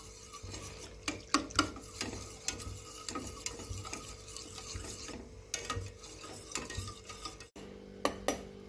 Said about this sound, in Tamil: நல்லா இது போல் அப்படியே கலந்து விட்டுட்டே இருக்கணுங்க.